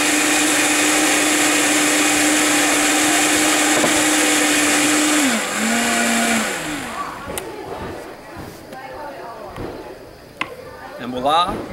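A blender whirs loudly and steadily while blending a green smoothie, then winds down and stops partway through, followed by clattering and shaking sounds.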